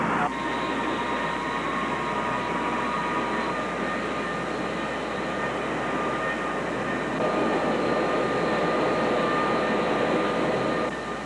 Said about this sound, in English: A military plane is observed by the crew on the Faye, mysteriously making low-altitude runs across the search area.